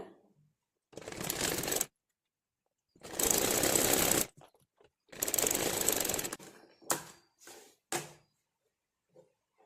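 A tailoring sewing machine runs a quarter-inch stitch on fabric for a kokki or V-shaped border, in three long steady bursts followed by several shorter stop-start runs, close and alone with quiet pauses between.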